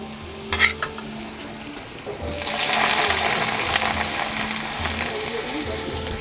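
Kohila (lasia root) pieces drop into hot oil after a couple of soft knocks, setting off a loud, close sizzle that holds steady to the end.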